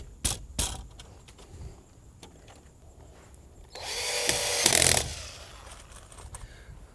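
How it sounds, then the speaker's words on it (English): A power driver runs screws through hinges into a 4x4 post on an outdoor trellis: one loud whirring burst of about a second, with scattered knocks and handling sounds before and after. "And then we screw in the hinges to the"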